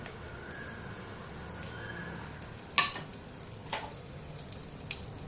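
Soft, steady sizzling of chana dal frying in a pan of coconut oil, with a couple of brief scraping clinks from stirring; quiet and close, no voices.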